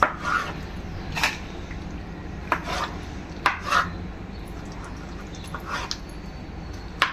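Goat blood being chopped into small pieces on a board in a home kitchen, giving a handful of sharp, separate knife thuds with gaps between them against a quiet background.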